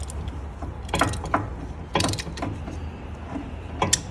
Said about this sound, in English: you can see how it compresses the caliper